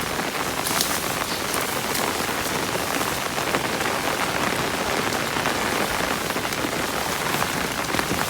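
Steady, dense rain falls through a storm in rural Thailand, a continuous even hiss of drops striking surfaces at constant loudness, with no voices or thunder standing out.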